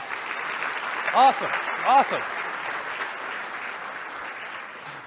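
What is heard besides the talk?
audience applause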